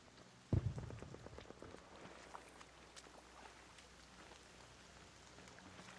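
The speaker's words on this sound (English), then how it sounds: "you can hear the raindrops falling" Rain falling in the video game ARC Raiders, a soft, steady patter of raindrops with one dull thump near the start, heard alone and quietly.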